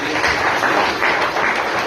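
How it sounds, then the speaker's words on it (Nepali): Hearty audience applause at a birthday gathering held at an ashram, a dense, even stretch of clapping from many hands throughout. "सबैजनाले उहाँको सम्मानमा जोरदार ताली"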